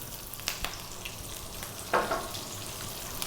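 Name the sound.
onion frying in oil for shrimp curry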